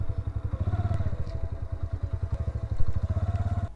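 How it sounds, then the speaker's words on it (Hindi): A motorcycle ridden into the grounds of a tomb in Sohawa, its engine thumping in a fast, steady, pulsing idle-to-low-throttle rhythm, close and loud, with a brief surge near the end before it cuts off. "मोटरसाइकिल अंदर ले जाए।"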